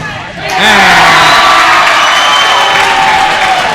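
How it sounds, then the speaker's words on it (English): Home crowd at a high school volleyball match between Holly Springs and MCHS cheering and shouting after a blocked ball, loud and sustained, rising sharply after a brief quieter start and filling the gym. "You can hear the crowd and how much they love that"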